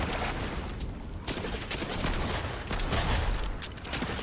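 Gunfire in the Fortnite video game, a dense ongoing barrage of shots and bursts filling the whole stretch at steady, loud level with no pauses.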